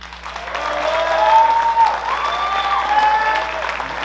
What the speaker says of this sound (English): please everybody give a big round of applause for Lex Martin